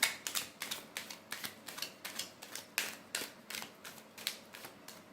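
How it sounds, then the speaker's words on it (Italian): A deck of tarot cards is shuffled by hand, giving a quiet, steady series of crisp riffling snaps and clicks at a brisk rhythm, close by with no talking. "Mischiamo le carte"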